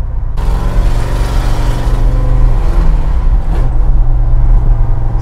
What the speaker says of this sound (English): Yeah, it was a stainless steel custom exhaust.